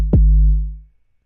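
A single big synth bass drum hit from the Thor synthesizer in Reason: a sharp click with a fast downward pitch sweep into a deep, booming low tone that fades out over about three quarters of a second.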